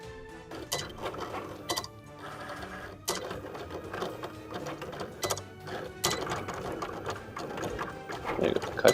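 A vinyl cutting machine works through clothing vinyl, giving a steady mechanical whirr with rapid ticking and clicking carriage movements, close by, and faint voices now and then.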